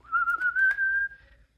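A person whistles a single long, steady rising tone, clear and close, holding for about a second before fading out.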